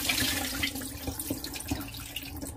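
Water drains and trickles from a pot of washed rice being readied for biryani, a soft running splash with a few small drips and clinks close by, no talking.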